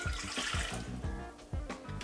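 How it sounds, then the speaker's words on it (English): Warm water is poured into a mixing bowl for homemade pizza dough, a steady close-up splashing gush that runs the whole time with no talking. "I'm gonna dump the water in the bowl."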